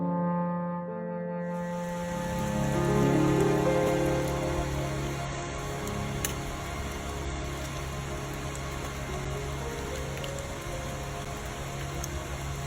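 Rain falls steadily through the Yakushima rainforest along the Shiratani Unsuikyo trail, a dense continuous patter of drops on leaves and surfaces with a low rumbling undertone, alone and fairly loud throughout.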